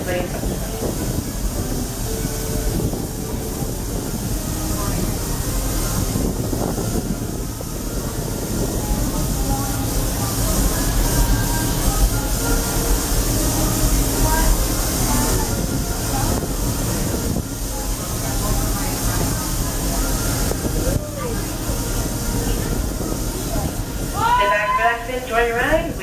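Walt Disney World Railroad train rumbling and hissing at Frontierland with steady mechanical noise, while a recorded announcement about staying seated plays, and a brief squeaky burst sounds near the end.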